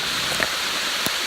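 Heavy rain pours down steadily on a rocky stretch of the Appalachian Trail, a dense, even hiss close around, with a couple of brief sharper drops standing out.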